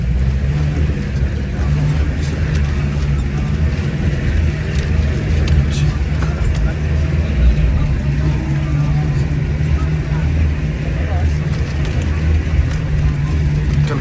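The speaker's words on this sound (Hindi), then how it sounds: "अभी लड़का गाड़ी निकलवाएगा जी हमारी" A jeep's engine runs steadily and strains as it works free of mud on a snowy mountain road between Shogran and Sri Paye, a constant loud rumble with voices nearby.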